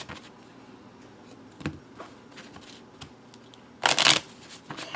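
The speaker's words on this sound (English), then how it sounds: "Give this a little bit of a shuffle." A tarot or oracle deck is shuffled by hand: soft papery riffles, light taps and rustling throughout, ending in one louder, dense burst of cards shuffling.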